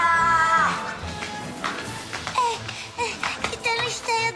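A cartoon cat meows in high, wavering cries after being brought down from a tree, with animated voices and music-like sounds mixed around it.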